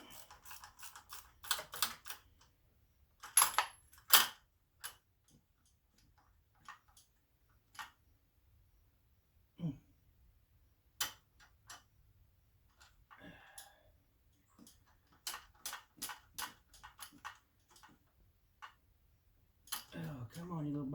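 A socket wrench is worked onto a fitting in short ratcheting ticks and bursts of clicks, with pauses between them. It is up close and fairly quiet.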